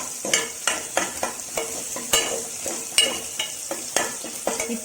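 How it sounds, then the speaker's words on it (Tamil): Ingredients for South Indian coconut milk rice frying in a pan sizzle under regular, rhythmic scrapes of a stirring spoon, roughly two strokes a second, close and without talk. "இப்போ இதை நல்லா ஃப்ரை பண்ணிட்டு இருக்கணும்."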